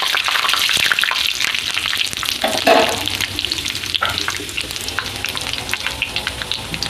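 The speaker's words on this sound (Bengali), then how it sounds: "এখন থেতো করে রাখা গোটা গরম মশলা দিয়ে দেবো। এটা একটু লাল লাল করে ভেজে নেব।" Crushed whole garam masala fries in hot oil for a mutton curry, a loud, steady, close crackling sizzle with occasional stirring scrapes.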